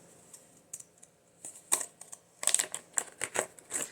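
Scissors cut through overlapping fabric scraps and a cardstock file folder, making a series of close, crisp snips and crunches that come quicker and louder toward the end.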